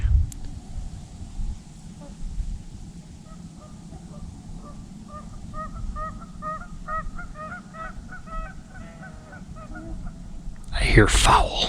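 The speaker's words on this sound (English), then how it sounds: "I hear fowl." Wild fowl, likely geese, honk in a loose repeated series at moderate distance beside a partially frozen river in a winter state park, over a low steady outdoor rumble, with a louder burst of nearby noise near the end.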